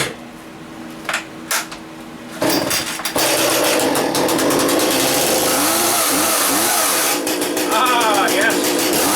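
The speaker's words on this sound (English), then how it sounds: "I've been starting saws like this for, probably 24 or 5 years, roughly" A friend's chainsaw brought in for repair is pulled over a few times, then roars into life and runs loud and close with revving, while someone talks over it.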